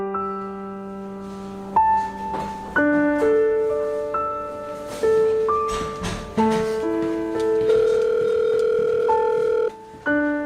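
A telephone ringback tone waits for an answer, playing a sequence of clear, stepped electronic tones that shift pitch every second or so, loud and continuous with brief breaks.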